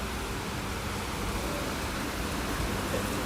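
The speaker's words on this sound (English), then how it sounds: "you guys can probably hear the rain just hitting the ground" Heavy rain pounds the ground in a steady, dense hiss that stays even and fairly loud throughout, with no speech and no breaks.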